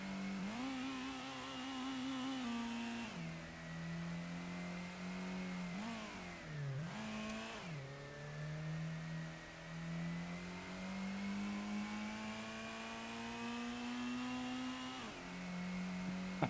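A Nissan Silvia engine in Gran Turismo holds a steady tone that shifts in pitch as it revs, with a few quick drops and rises as gears change, loud and alone.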